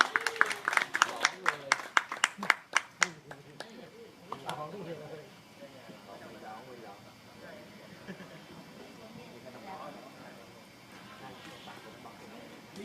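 Audience clapping for a singer at a stage event: a run of sharp, separate claps for about three seconds, then fading into quiet background murmur.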